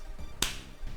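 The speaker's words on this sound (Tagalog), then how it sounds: "palakpak" One sharp, bright hand clap, as in a shrine ritual, sounds close and alone against quiet background noise.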